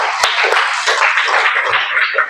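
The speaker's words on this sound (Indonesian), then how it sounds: "Beri tepuk tangan untuk kita semua." Students in a computational-thinking class clap for themselves at the end of a lesson. The applause is close, dense and continuous, lasting about two seconds, with no talking.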